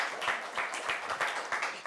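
A short burst of audience clapping honors a Xavier High School student at a high school NAC event, a muffled, moderately loud patter of many hands lasting under two seconds.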